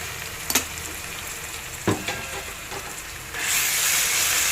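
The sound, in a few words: ginger garlic paste frying in a pan with onions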